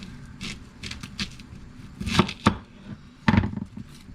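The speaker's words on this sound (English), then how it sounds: "So, alright, so cut an onion for" An onion being chopped with a knife on a board while making steak fajitas, heard as several sharp, irregular cutting knocks close by, with a few louder strikes near the end.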